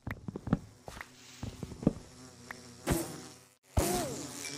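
Bees buzzing in the video game Minecraft, an insect drone with rising and falling bursts that swell loud near the end, with short clicks and game noises mixed in.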